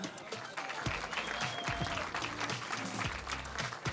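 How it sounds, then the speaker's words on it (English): A crowd at a Street Fighter 6 tournament finals claps steadily in sustained applause, a dense patter of many hands with faint voices mixed in. "Give yourselves a round of applause for being here."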